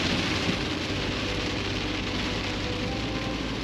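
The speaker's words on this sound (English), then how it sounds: "she is absolutely raining dogs and cats" Heavy rain pours down steadily in Stewart, a dense, even hiss of falling water with a low rumble beneath it and no break in intensity.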